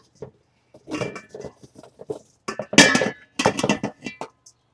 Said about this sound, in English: we're going to dump these out in a bowl